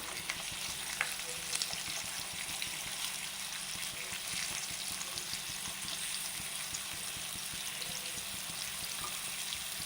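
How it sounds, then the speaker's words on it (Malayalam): Beetroot slices fry in coconut oil over a low flame, giving a steady, even sizzle with soft crackles throughout, close and alone. "നമ്മൾ ചെറുതീയിൽ ഈ വെളിച്ചെണ്ണ എല്ലായിടത്തേക്കും ഒന്ന് ചുറ്റിച്ചു കൊടുക്കാം"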